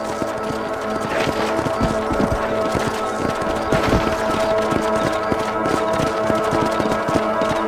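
Horse hooves clip-clop in a steady trotting rhythm, close and clear, in the Western video game Red Dead Redemption, with faint game ambience underneath.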